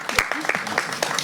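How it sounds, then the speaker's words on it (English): A brief patch of clapping from a crowd applauding a panel at a Juneteenth event, mixed with voices talking over it. "can we give a round of applause for the panel here"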